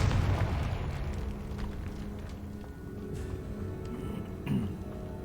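Confringo fire spell blasting in Hogwarts Legacy, a dense, booming burst of explosion noise that rolls on for several seconds with a second thump near the end, loud and close, no talking.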